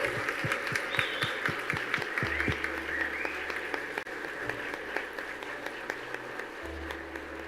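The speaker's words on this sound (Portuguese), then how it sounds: "vocês já fizeram uma salva de palmas para o Júlio Almeida" Dense, steady applause from an audience honouring an award winner at the Ranking 100 Open Startups 2024 ceremony, sustained clapping that stays fairly even over a low room hum.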